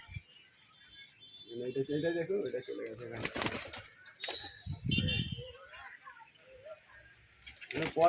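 Madrasi pigeons cooing in low, throaty bursts, a few separate calls close by between short pauses, with a person talking nearby and some faint clatter.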